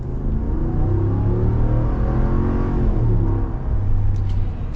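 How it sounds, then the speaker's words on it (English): A 2021 Ram 1500 Limited Night Edition with a Hemi engine accelerates hard, a steady deep engine rumble and rising drone heard from inside the cabin, with no talk. "we're going to be getting our full-blown acceleration right here now"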